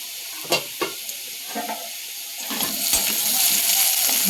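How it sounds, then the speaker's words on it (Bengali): Potatoes fry in a pan with turmeric, a steady hiss and sizzle, broken early by a few sharp clatters of stirring, then growing denser and louder toward the end. "ভাজা হয়ে গেছে আলুটা"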